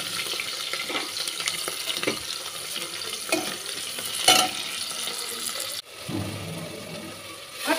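Chopped onions sizzle and fry in a pan as they are stirred, a steady crackle broken by several scraping stirs and a sharper clatter partway through, close and with no talking.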